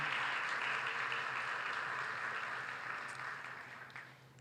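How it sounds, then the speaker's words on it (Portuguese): A church congregation applauds during a service, dense continuous clapping that fills the hall and gradually fades toward the end. "Você pode aplaudir o Senhor Jesus?"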